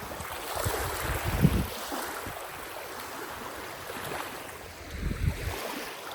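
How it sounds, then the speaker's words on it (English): Ocean surf rolling at the shore with steady wind noise, a continuous wash swelling gently in a couple of places, no voices. "It always feels cool to walk into the ocean."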